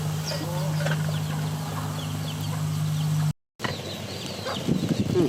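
Chickens cluck and chatter in the background over a steady low engine-like hum, with a brief dropout and livelier clucking toward the end.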